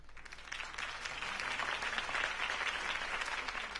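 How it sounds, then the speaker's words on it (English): Sustained applause from a large crowd in a Batman video game, dense steady clapping filling the whole stretch at a fairly even level, with no voices standing out. "If only Mr. Wayne, my campaign's largest backer, could have heard that applause"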